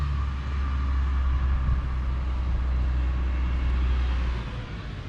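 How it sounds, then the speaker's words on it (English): A truck arrives at a snowy rural property, its low engine rumble rolling steadily and fairly close before easing off at the end, with no talking. "I think I hear the truck"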